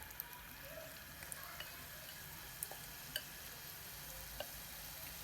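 Onion rings dropped into hot cooking oil over a low flame, a quiet continuous sizzle with a few faint ticks and pops.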